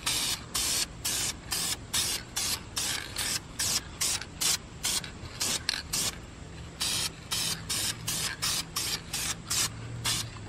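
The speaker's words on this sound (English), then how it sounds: "I'm just gonna throw one coat on this" Spray can coating Honda Prelude brake calipers in short repeated hissing bursts, each about a third of a second, with brief gaps between them, close and steady throughout.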